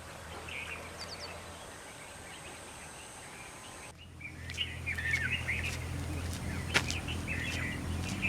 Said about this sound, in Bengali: পাক খেতে শোনা যায় ঘরে ফেরা পাখিদের কলরব